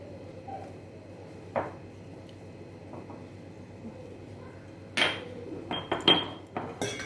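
A spoon stirs salt into buttermilk in a vessel, giving a few isolated metallic taps early on, then a quick cluster of sharp clinks and scrapes toward the end over a quiet background hum.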